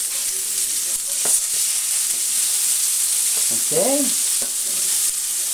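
Salmon fillet frying in a hot pan, a steady close sizzle running throughout, with a few light clatters as the fish is flipped and a brief spoken word.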